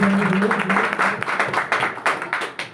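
A crowd claps in a brief burst of applause, sharp uneven hand claps close and loud, with a voice briefly at the start.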